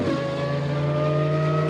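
Engine drone from a Lamborghini and a Porsche 918 Spider on a race track's main straight, a steady sustained roar with a strong low hum and no speech.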